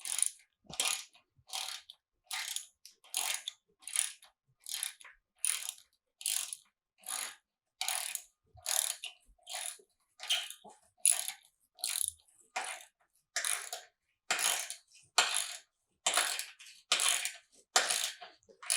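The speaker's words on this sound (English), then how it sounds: "Socket wrench" A socket wrench ratchets a bolt in to anchor home gym equipment, giving a steady series of short, crisp clicking bursts, close and loud, repeating about every half second with no talk.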